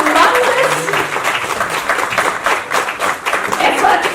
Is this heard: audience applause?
yes